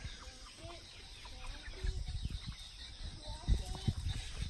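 Several chickens cluck softly nearby, with scattered footsteps and rustling beneath the calls.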